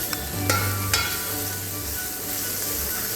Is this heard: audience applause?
no